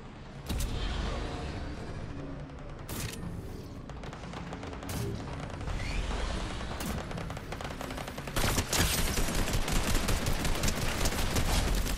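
Rapid bursts of gunfire crackle through a Fortnite squad match, dense automatic shots rattling continuously with sharp loud cracks and near and distant exchanges layered over each other.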